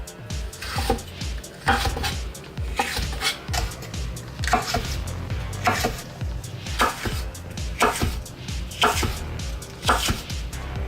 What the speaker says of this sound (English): Let's start by hacking up these peppers into smaller pieces.